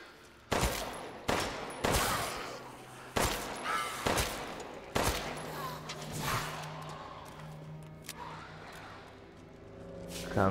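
Shotgun blasts in Resident Evil Village, a series of sharp, loud single shots spaced about a second apart, then fading into quieter rumbling and scattered noises toward the end.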